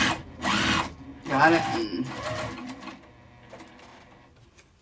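A sewing machine top stitches a fabric coin purse, its motor whirring in short bursts near the mic while a person talks over it.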